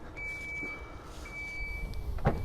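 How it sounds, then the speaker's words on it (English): Power tailgate of a 2023 Citroen C5 X closing, with a thin steady warning beep tone running through most of the moment and a soft thud and mechanical movement near the end, fairly quiet. "Press this to close the tailgate"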